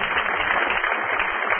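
A church congregation applauding during a sermon, a steady, even rush of clapping that sounds band-limited and somewhat distant, with no break for its short duration.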